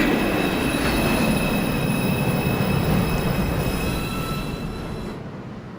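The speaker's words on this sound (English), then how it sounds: "There is a train approaching track." An NYC subway train pulls into the Grand Central platform, a loud continuous rail roar with squealing wheels and high metallic whines that fades toward the end, with no voices.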